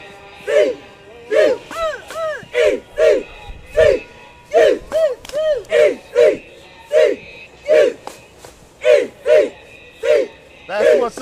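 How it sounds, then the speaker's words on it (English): A group chanting a rhythmic call-and-response cheer in formation at a college homecoming, with about a dozen evenly spaced, loud shouted bursts in a steady marching beat. "Let me strike up a cheer."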